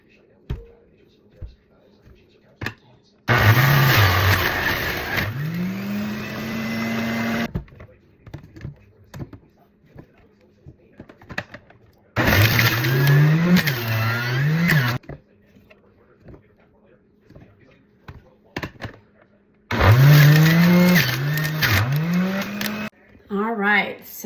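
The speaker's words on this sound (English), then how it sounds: "So we're using this juicer for now, and honestly, it works pretty good" Electric juicer grinding produce in three separate bursts of loud whirring motor noise, each lasting a few seconds, with quieter kitchen clatter in between.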